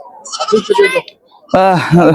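A local goat bleats at a weekly goat market in Bhaluka, Mymensingh, short wavering cries close by, mixed with people talking.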